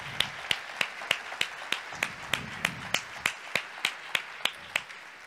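Rhythmic clapping from a church congregation honouring the women, sharp evenly spaced claps repeating at a brisk steady beat, moderately close and fairly quiet, with little talk.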